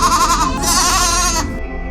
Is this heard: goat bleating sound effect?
yes